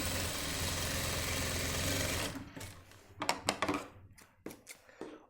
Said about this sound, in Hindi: इस जगह हम सिलाई मार देंगे बिल्कुल।